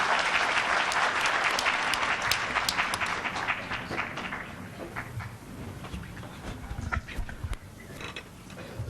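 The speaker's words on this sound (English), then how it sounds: "A hand of applause, please." An audience applauds at a Uganda Law Society launch event for the International Bar Association. Dense clapping starts loud and gradually thins into scattered individual claps as it fades over several seconds.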